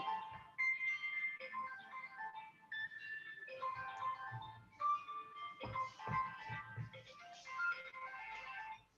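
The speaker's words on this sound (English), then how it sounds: "So just phone was ringing." A telephone ringtone plays a bright, repeating electronic melody that runs continuously for several seconds at moderate volume, with no voices over it.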